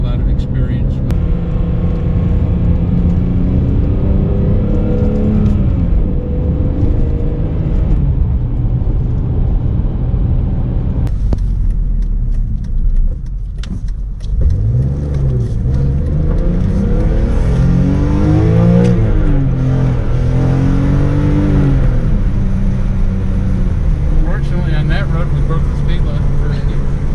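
A sports car, either a 2004 BMW E46 M3 or a 2025 Mazda MX5, accelerating hard from inside the cabin, a loud, continuous engine roar rising and falling in pitch through gear changes for almost half a minute.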